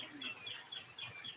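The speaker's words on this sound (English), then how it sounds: "We hear a cardinal singing." Faint, distant northern cardinal song: a series of clear, high, repeated whistled notes at a steady rhythm over a quiet background.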